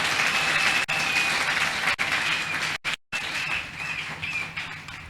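A church congregation applauds in a dense, continuous wash of clapping that holds steady, with a couple of brief dropouts, at a moderate distance.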